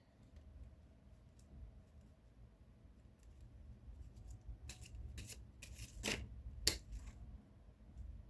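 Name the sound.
shuffling Lenormand cards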